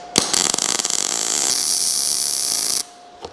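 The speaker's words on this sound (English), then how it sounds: "Do a little weld." An Esab arc welder lays a short weld bead, giving a loud, steady hiss and crackle that starts abruptly, holds for about two and a half seconds and then cuts off.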